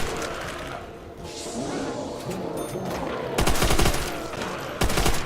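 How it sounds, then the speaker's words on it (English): Bursts of gunfire from zombie mode in Call of Duty: World at War on the Nacht Der Untoten map, with a sustained volley of shots around the middle and another short burst near the end over a busy game background. "Just shooting zombies on the stairs."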